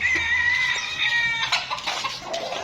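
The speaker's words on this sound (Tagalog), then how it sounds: "tignan natin dito mga pare ko mga manok dito" Chickens at a game farm on Mt Banahaw cluck and crow in a steady, close chorus of overlapping calls with a shrill tonal cry early on, forming a busy, fairly loud coop din.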